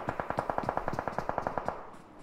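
Rapid automatic gunfire from a shooter video game during a competitive training scrim, a steady burst of about fifteen evenly spaced shots over two seconds, then tailing off into a quieter game ambience.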